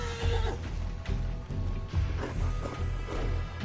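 A horse neighs and snorts amid hoof clip-clop in the Western video game Red Dead Online, with ambient game sounds and rustling throughout.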